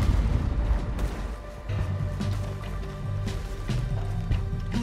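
Deep booming cannon blasts in Red Dead Redemption 2 over a dense rumbling battle soundscape with tonal music or hum throughout.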